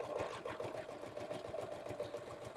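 A sewing machine runs steadily at speed, a fast, even mechanical chatter with a low hum, continuous and fairly quiet, with no voices.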